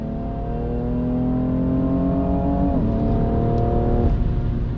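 BMW F80 M3 CS sedan on a race track, its engine droning loud and steady with harmonic layers, pitch climbing through gears with two sharp shift drops near the end, no talking.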